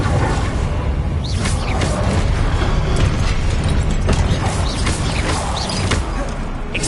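Incendio fire spell bursting repeatedly in a wizard video game, a dense roaring crackle with whooshing flares and booming pops, loud and continuous throughout.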